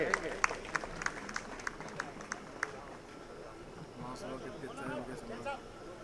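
Audience at a Mahavir Janam Kalyanak celebration held at a BJP office claps to welcome guests, with scattered sharp claps early on giving way to crowd murmur and a voice talking.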